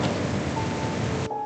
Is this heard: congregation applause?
no